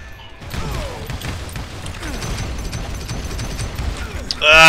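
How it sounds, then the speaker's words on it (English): Repeated gunfire in the Call of Juarez Gunslinger video game, with sharp shots scattered among game effects while a player talks over them. "he's shooting me through a tree"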